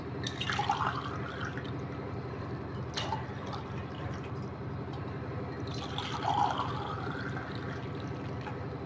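Water poured from a tumbler into a vessel while making panakam, a faint trickling and dripping with a couple of brief louder splashes, heard alone.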